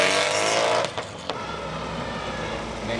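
Rally car launching from a stage start at the Eldoret Rally 2022, round 4 of the KNRC in Kenya: a loud engine roar accelerates hard away, with sharp gear-change breaks, then fades to a steady drone as it moves off.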